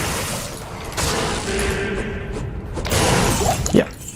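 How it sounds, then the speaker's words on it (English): Monsters blow apart in Diablo 2 Resurrected, with bursts of shattering, crackling explosions arriving in quick clusters over a rumbling game backdrop. "once you kill a monster, you can just start exploding"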